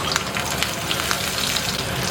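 Pork belly sizzles as it renders its fat in a smoking-hot clay pot, a steady close crackle of frying with scattered sharp pops throughout.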